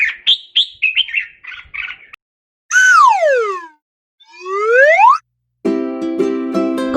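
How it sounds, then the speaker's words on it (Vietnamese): Bird chirping and tweeting in quick bright bursts, then long sweeping whistled calls and a sharp trilling phrase, loud and close with silent gaps between. "Con chim. Con chim."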